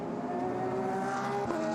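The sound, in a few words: Audi GT race car driving through the turns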